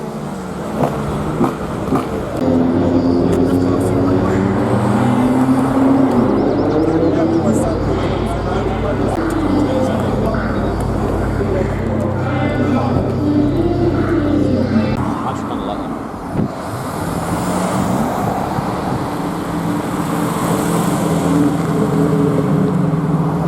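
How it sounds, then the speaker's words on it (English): Vauxhall VXR doing burnouts at a modified car meet, engine revving hard in rising and falling sweeps with a rough roaring bed, loud and close, crowd chatter and talk mixed in. "Burnouts just happened in a VXR."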